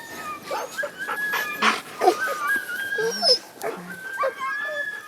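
Sled dogs whimpering, whining and yipping in spring snow, a close and restless chorus of high cries and squeals that rise and fall without pause.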